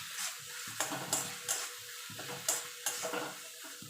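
Turmeric powder stirred into melted tomatoes frying in a pan for vegetarian moong dal, with a steady sizzle broken by repeated spoon scrapes and clinks against the pot, close and alone.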